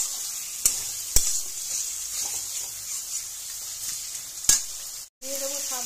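Spices and grated tomato fry in a pan with a soft, continuous hiss. Sharp clacks of a spoon against the pan break through it a few times, and a brief silence near the end is followed by a faint tonal sound.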